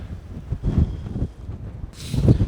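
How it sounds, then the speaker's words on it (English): Gusts of wind buffet the microphone in uneven rumbling bursts, with a hiss rising near the end. "It's so windy up here, it's absolutely ridiculous."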